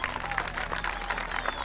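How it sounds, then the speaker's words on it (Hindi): A crowd of people claps at a village political speech, a fairly soft, dense patter of applause that continues steadily and is heard on its own. "ताली बजा रहे हैं लोग"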